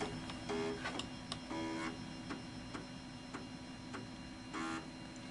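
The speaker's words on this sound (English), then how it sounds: "You can hear the floppy drive spinning." A faint mechanical whir and hum with intermittent clicks and ticks, steady and quiet, as a floppy drive spins up inside a Dell desktop computer.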